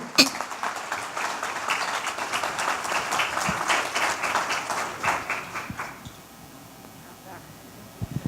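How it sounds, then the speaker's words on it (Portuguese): Audience applause at a business seminar welcoming a speaker to the stage, steady crowd clapping for about six seconds before dying down to scattered claps. "pedir uma salva de palmas a vocês para que nós possamos receber Gabriela Baumgart, por favor."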